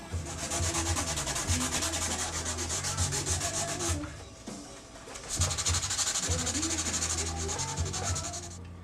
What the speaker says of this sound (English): I've been through these 2 pieces of sandpaper.